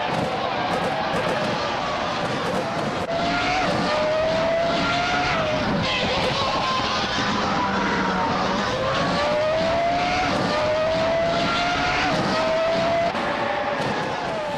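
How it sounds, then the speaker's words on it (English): A Jordan 196, the 1996 Formula One car, screams along in a racing video game, its high engine note rising and falling through gear changes, loud and continuous, with other cars droning around it. "Bot Battle Grand is driving the Jordan 196, a classic from 1996 known for its agility."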